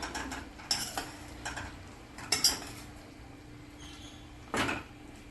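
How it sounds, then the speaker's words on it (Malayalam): A ladle stirs soya chaap masala curry in a metal pot, giving a few close, separate clinks and scrapes against the pot with short pauses between, and no talking. "ഇതൊന്ന് ഇളക്കി കൊടുക്കാം."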